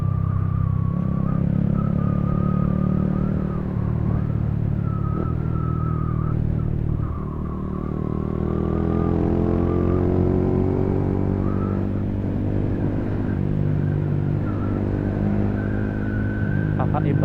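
A car engine with an open throttle body revs and drones loudly and continuously close by, the pitch rising and falling through the revs while people talk over it.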